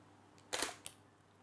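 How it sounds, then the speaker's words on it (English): A single-lens reflex camera shutter fired by a shutter release during extreme macro photography gives one crisp, close mechanical clack followed by a quick softer click in quiet surroundings. "To avoid touching the camera, I shall be using a shutter release throughout."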